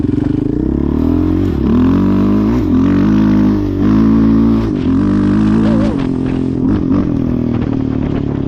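Yamaha Raptor 700R ATV with Big 3 intake, exhaust and tune riding past close by, steady loud engine drone with rising and falling revs, gear changes and brief throttle dips throughout, no talking.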